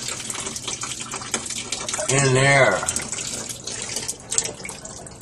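Tap water runs steadily while the screen on a Bosch Powerstar water heater is back flushed at home, a louder gushing surge in the middle, with people talking over it.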